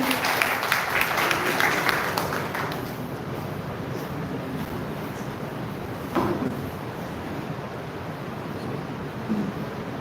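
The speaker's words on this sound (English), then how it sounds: "Please give a round of applause" Applause from a conference audience, loudest at the start and fading into a softer scattered patter with a few louder bursts.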